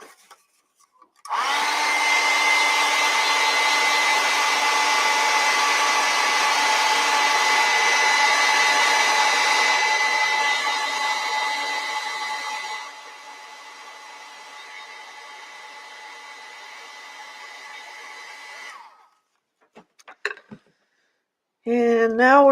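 A hair dryer blows on a fantasy mushroom landscape painting to dry the paint: a steady close whir for about seventeen seconds, dropping to a lower setting partway through, then switching off, followed by a few faint handling taps.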